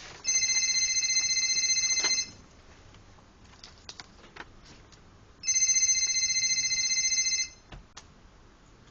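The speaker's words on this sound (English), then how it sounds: "He feels his phone ring in his pocket." A mobile phone rings from inside a pocket in two bursts of a repeating electronic ringtone, each about two seconds long, with faint clatter between them in a quiet kitchen.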